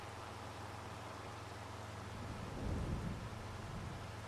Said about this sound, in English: not sure how long it's supposed to be raining for